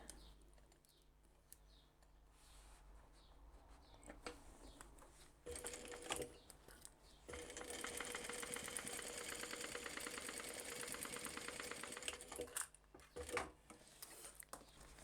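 A sewing machine stitches a seam from the inside of an Ember crossbody bag, running in a steady, close whir for about five seconds mid-clip between quieter handling sounds and brief starts.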